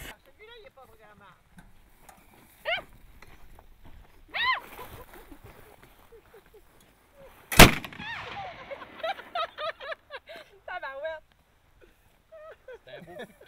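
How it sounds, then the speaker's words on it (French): One sharp, loud cannon boom bursts out partway through, set among stretches of conversation before and after it. "C'est un beau coup de canon, ça."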